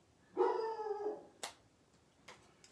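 Dog howling indoors, a single long drawn-out howl with a wavering tone at moderate distance, followed by a couple of short sharp knocks or yips and faint background quiet.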